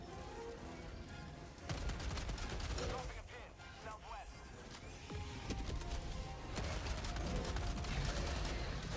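Sustained automatic gunfire in a video game battle against swarming bugs, loud bursts and chatter of shots stretching across the whole stretch, with players calling out over the din.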